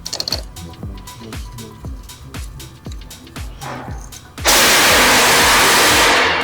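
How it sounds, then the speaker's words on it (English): A loud vacuum cleaner switches on with an abrupt, harsh, steady roar that holds to the end, after a series of rhythmic knocks and taps. "That's loud. Vacuum cleaner."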